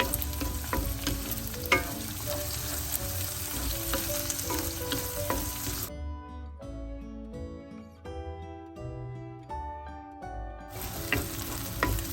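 Curry leaves and two chopped green chillies crackle and sizzle in hot oil for a fenugreek (vendhaya) kuzhambu, steady and close, giving way midway to a passage of music before the frying returns.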